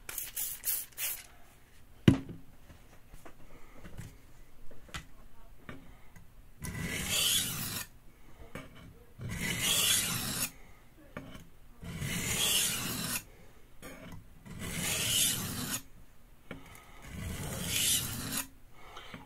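A santoku knife is stroked across a sharpening stone to raise a burr, five or six steady rasping passes in an even rhythm with short pauses between, close and clear, no talk.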